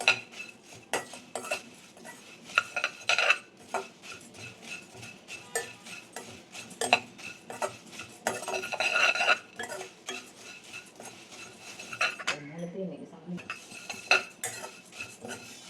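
Puffed rice (aval pori) is heated and stirred in a pan, producing repeated close metallic scrapes and clinks of a spoon against the pan in irregular bursts, with brief quiet gaps.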